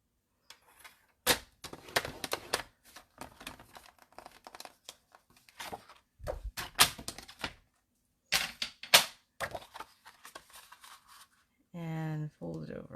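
Cardstock being scored with a scoring tool and folded by hand while making a greeting card, heard as crisp scraping, creasing and crinkling bursts near the mic, with a person talking between them.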